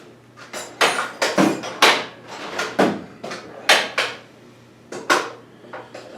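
Metal toolbox drawers slide open and shut repeatedly in a workshop, a series of sharp rattling clacks and scrapes in an irregular rhythm, close and fairly loud, with no voices.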